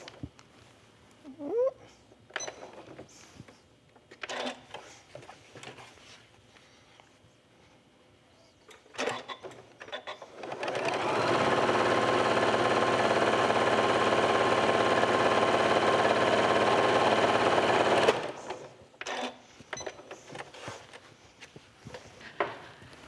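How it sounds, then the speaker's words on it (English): A sewing machine stitches a scant quarter-inch seam on a quilt block of quarter square triangles, running steadily for about seven seconds in the middle, with quiet handling sounds before and after. "So I'm just going to sew this first seam."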